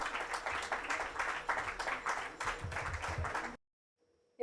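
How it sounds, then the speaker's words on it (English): Audience at a formal afternoon event applauds to welcome the chairperson to give her address, with a steady wash of clapping for about three and a half seconds before it cuts off into near silence. "Please join me in applause"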